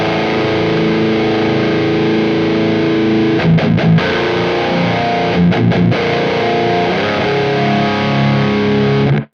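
Distorted electric guitar through a Marshall cabinet simulation rings out in thick, loud sustained chords with a couple of quick choppy strums midway, then cuts off.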